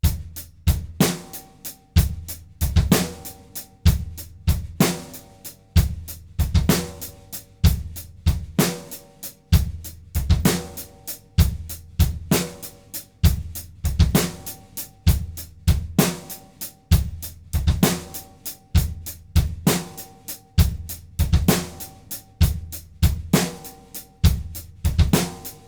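A drum kit plays a slow, steady triplet-feel groove with two sixteenth notes tucked into each bar: a repeating pattern of kick, snare and cymbal hits, close and clear, with no talking.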